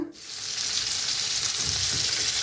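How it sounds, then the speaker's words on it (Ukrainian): Skinless chicken thighs, seasoned with salt and spices, start frying in a pan with butter and give off a loud, steady sizzle that spreads into a dense crackle after the meat goes in. "Зараз буду обсмажувати м'ясо."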